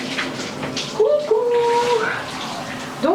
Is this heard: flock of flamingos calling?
no